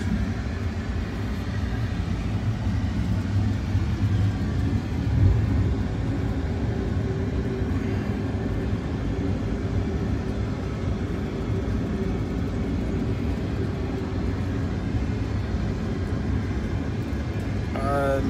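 Concorde flight simulator climbing out after takeoff, a steady loud broadband engine roar and low rumble holding constant throughout with no pauses.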